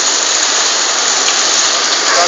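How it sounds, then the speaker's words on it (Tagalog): Hail pounds down in a steady, dense, loud roar of ice pellets striking surfaces nearby, continuous and unbroken throughout without any voices. "bumaha ng yelo dito"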